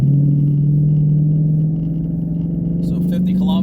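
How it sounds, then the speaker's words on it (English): A 2016 Ford Mustang GT on Bridgestone Blizzak WS90 winter tires accelerates, a steady, loud engine drone rising slightly in pitch, with brief talk near the end. "I'll give it one more acceleration so you guys can see"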